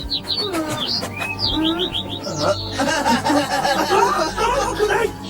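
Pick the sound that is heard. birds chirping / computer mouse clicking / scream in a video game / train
birds chirping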